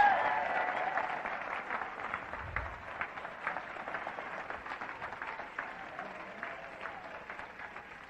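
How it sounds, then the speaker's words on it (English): Audience applause for a participant at a seminar on millionaire mindset, a moderate, steady patter of many hands from a fairly distant crowd that lasts throughout and fades slightly. "Give her a round of applause."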